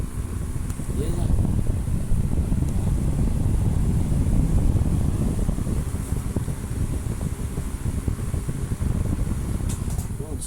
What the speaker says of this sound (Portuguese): Sem barulho nenhum, perfeito. Um ventilador normal.